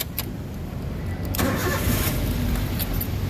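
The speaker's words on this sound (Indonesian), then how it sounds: "sekarang kita coba nyalakan mobil" A 2013 Daihatsu Terios 1.5 TX with manual transmission cranks briefly and fires up, then settles into a steady, close idle.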